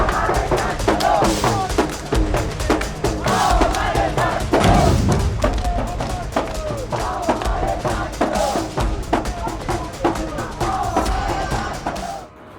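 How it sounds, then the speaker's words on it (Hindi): A large crowd of student protesters on a march in Delhi, demanding exam reform over a paper leak, chants loudly in rhythmic unison, with overlapping shouts and occasional thuds and the full roar holding close throughout. "भारी भीड़"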